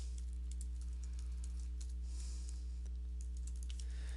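Quiet clicks of a computer keyboard patter irregularly over a steady low electrical hum as someone types in a web address, close and faint, no voices.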